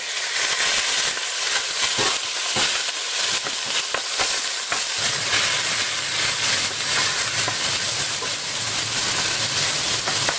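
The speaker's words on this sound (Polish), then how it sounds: "Wrzucam mięso i obsmażam." Steady, loud sizzling of minced meat frying in oil in a hot pan, a continuous crackling hiss with no talking.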